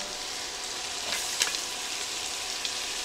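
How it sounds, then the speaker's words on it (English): Onion sautés in butter and cooking oil in a pan, a steady close sizzle with faint crackles and a few soft stirring clicks, no talking. "What we're going to do now is saute the onions down until they're nice and soft"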